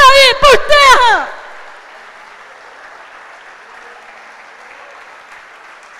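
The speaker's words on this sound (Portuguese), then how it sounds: "E agora você pode aplaudir." A preacher's raised voice opens the clip, then a church congregation's applause follows as a soft, distant, steady wash of clapping that carries on evenly to the end.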